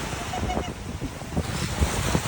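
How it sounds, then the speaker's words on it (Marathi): Cold sea waves washing in at the shore in Hobart, a continuous broad rush of surf with wind buffeting the microphone, close and steady throughout. "कशा वेज येतात."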